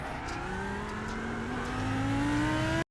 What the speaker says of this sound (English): Should I wait for this set of cars to go by?